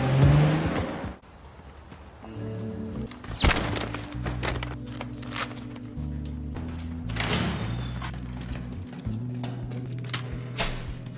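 A pink car driving with a low, continuous engine rumble that shifts in pitch, with a sharp bang early on and a few clunks along the way.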